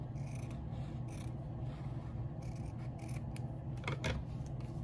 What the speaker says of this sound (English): Let's see if I can try and cut out a piece with my paper scissors here.